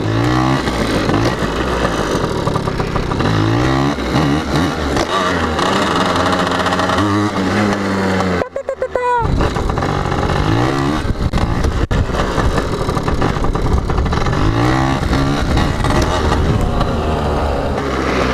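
PW80 dirt bike engine revving during wheelie training, buzzing small engine rising and falling with throttle, close, with a brief gap mid-way and wind noise.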